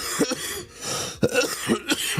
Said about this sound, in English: And the man can't even cough on stream?